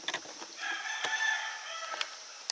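Honking, clucking fowl calls ring out in short bursts against a quiet outdoor background, moderately close.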